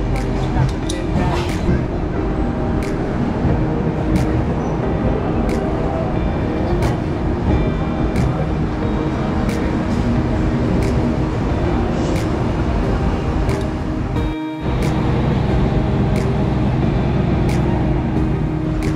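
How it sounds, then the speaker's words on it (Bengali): A Padatik Express train pulls away from New Jalpaiguri station bound for Sealdah, heard from inside an AC two-tier coach as a steady broad rumble with clanking, and a brief dip near the end. Voices murmur throughout. "ট্রেন ছাড়লো"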